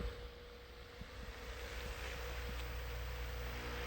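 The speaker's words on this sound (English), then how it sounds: "listen to how quiet this trolling motor is running full power" A steady low electric hum with a faint whine from a roughly 100-pound-thrust trolling motor at full power on a bass boat, over soft water and wind noise, quiet and constant throughout.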